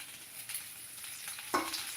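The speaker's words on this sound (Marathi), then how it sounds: "सुरुवातीला तेल थोडं जास्त घालायचं म्हणजे वांगे आहे ना चांगले परतून" Eggplant sautéing in plenty of oil in a pan, a soft steady close sizzle with a small stirring clink partway through.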